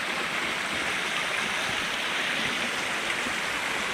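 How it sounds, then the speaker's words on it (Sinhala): A forest stream flows in a steady, broadband rush of water, continuous and fairly close, with no voices. "අපිට හම්බ වෙනවා ලස්සන දොළ පාරක්"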